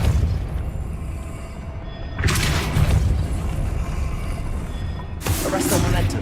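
Depulso spell cast in the video game Hogwarts Legacy, two loud bursts of whooshing impact with a deep boom, separated by a rumbling low stretch.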